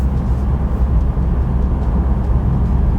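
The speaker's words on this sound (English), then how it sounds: "Maybe a little bit of engine noise, which is a brilliant thing in this car" Steady low engine and road rumble inside a 2026 Acura Integra cruising and climbing at about 30 miles per hour, even and unbroken with no talking.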